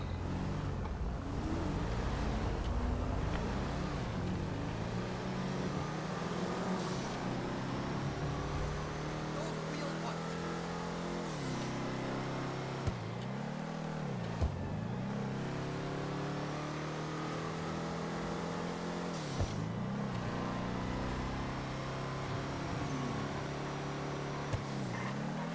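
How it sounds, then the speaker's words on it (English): Taxi car engine running steadily through a long drive in Broadway traffic, a continuous low hum with shifting revs and gear changes, with voices talking over it at times. "I like the sound of the engine."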